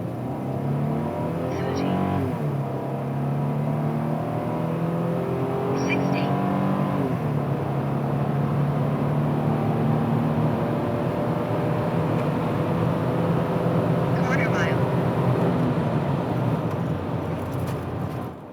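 A second-generation Nissan Xterra accelerates hard from a standstill through the gears on a road in Mexico, engine note climbing and dropping at each shift, loud and steady throughout.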